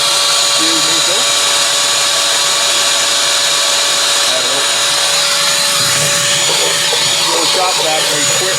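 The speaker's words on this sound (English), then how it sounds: "Little shop vac makes quick work" A small shop vac runs continuously at close range, a loud steady whine and rush as it sucks dust from inside a Pit Boss Lexington pellet grill, with some rattling of the nozzle and someone speaking over it.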